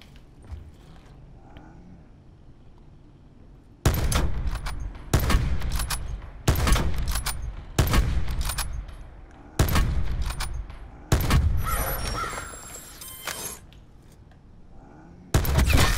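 Video game gunfire arrives in loud, sharp bursts, about seven volleys with brief quieter gaps between them, after a few seconds of low background near the start.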